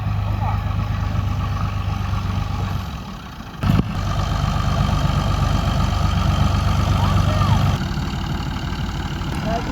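A tractor engine runs at a steady idle with a low, continuous diesel drone. A brief knock sounds partway through, and the engine note shifts slightly toward the end.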